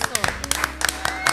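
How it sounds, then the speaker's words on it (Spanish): A handful of handclaps from a small audience at a comedy-style show, bursting in quick uneven spurts beneath continuous talking. "aplauso, mi gente. Vale, aplauso."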